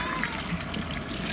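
Tap water running steadily into a sink in a run-down, moldy rented home, a brief close hiss and splash with no speech.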